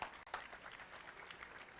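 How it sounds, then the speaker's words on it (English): Crowd applause at an outdoor recovery walk event, a short burst of dense clapping from many people, steady and moderately loud. "give yourself an applause"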